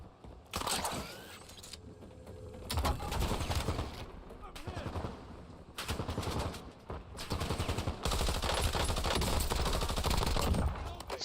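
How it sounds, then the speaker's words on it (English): Bursts of automatic gunfire from a bot in Call of Duty Warzone crackle in repeated volleys, some sustained and rapid, with gaps between, while a voice speaks at times. "Stop shooting at me, Mr. Bot."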